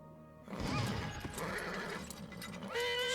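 Slow-motion horse neighs in the Might & Magic Heroes VI video game, with a drawn-out, pitched whinny over rumbling battle effects and a clearer, wavering neigh near the end.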